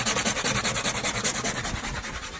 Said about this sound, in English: now we're just sanding the wood